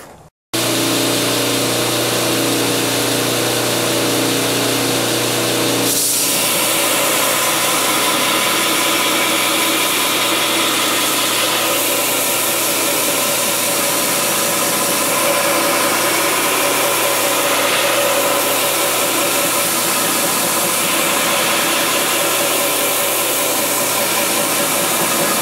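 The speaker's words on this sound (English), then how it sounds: "So here it is, I've ground out the initial grind, so now I've got a straight edge, including the tip." A bench grinder or belt grinder cuts an initial 45-degree bevel into a knife blade, a loud steady whirring hiss that runs continuously with a brief shift in tone early on and no talk.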